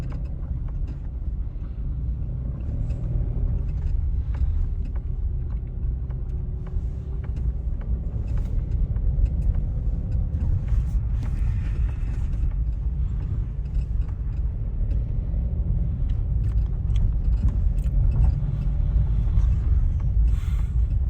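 Steady low rumble of a car driven over a bumpy, rough road, heard from inside the cabin, with continuous road and suspension noise and scattered small knocks, no talking.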